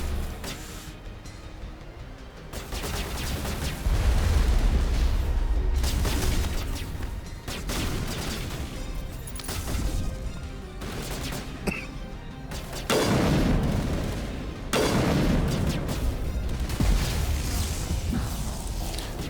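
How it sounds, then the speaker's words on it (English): Booms and crashing blasts from combat in the video game Mass Effect come in bursts over a dense, rumbling battle soundscape, with several louder impacts spread through the stretch. "I don't even know where that explosion came from."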